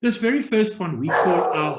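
A dog barks in the background while someone talks over it, the barks brief and partly masked by the steady voice.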